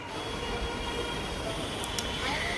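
A metro train rumbles steadily at a station platform, a broad continuous roar with a brief high squeal near the end and faint voices in the background.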